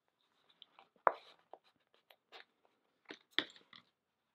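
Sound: folding a paper gift card holder

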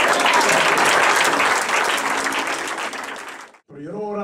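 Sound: congregation applause

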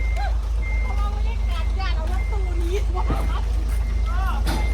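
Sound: reversing beeps of a van backing out

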